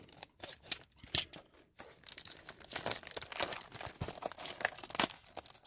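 Cutting open a Dragon Ball Super card game booster box, Rise of the Unison Warrior: close, crisp slicing and tearing of packaging with crinkling plastic, irregular bursts over several seconds, no voices.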